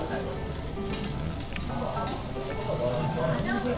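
Lamb ribs sizzle steadily on a tabletop grill at a lamb barbecue restaurant, a dense continuous frying hiss that carries under people chatting nearby.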